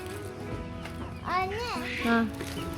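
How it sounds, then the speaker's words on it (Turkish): Ornamental chickens cluck and call nearby at a zoo with rising and falling squawks, over a steady background of voices and farmyard noise. "Burada süs tavukları var."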